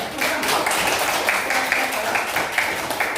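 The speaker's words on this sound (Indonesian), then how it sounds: "Tepuk tangan untuk kelompok 1." A classroom group of students claps for a presenting group in a dense, steady patter of applause at moderate loudness, with faint voices mixed in.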